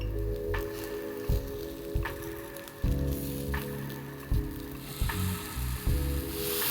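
Oil sizzles steadily in a pan as an instant fasting dosa fries, a close, continuous hiss with a spatula scraping or tapping at regular intervals of roughly a second, and no talk.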